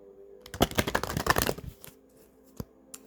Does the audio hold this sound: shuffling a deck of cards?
yes